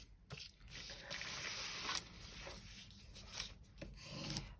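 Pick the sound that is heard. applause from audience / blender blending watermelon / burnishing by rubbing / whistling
burnishing by rubbing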